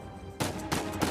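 Gunfire cracks in Uncharted 4: two or three sharp, loud reports in quick succession, the first landing a headshot, heard on their own without talk.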